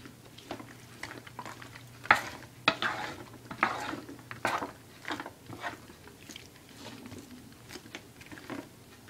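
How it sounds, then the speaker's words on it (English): Sesame shrimp stir-fry stirred in a hot pan, with irregular scraping and clacking strokes of a utensil over a low sizzle, close and moderately loud, with no speech. "Give it a nice stirs up."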